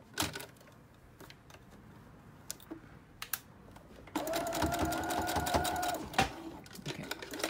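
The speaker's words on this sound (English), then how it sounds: "I'm just going to do a straight stitch for now just so I can show you what it looks like." A sewing machine stitches a straight seam on fabric for a child's cape. A few scattered clicks and taps come first, then a loud, rapid mechanical whirring run of about two seconds that stops abruptly.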